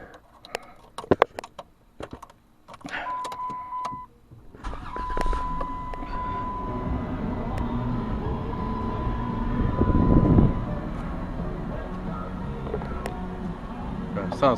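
A 2002 Dodge Grand Caravan engine cranks and catches after some clicks and handling noises, then settles into a steady idle with a rise in revs partway through, close and moderately loud.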